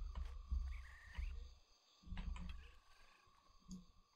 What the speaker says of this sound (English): Oh, is that a frog?